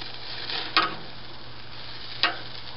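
Burgers sizzle steadily on a charcoal grill, a continuous hiss broken by two sharp scraping clicks as the patties are flipped.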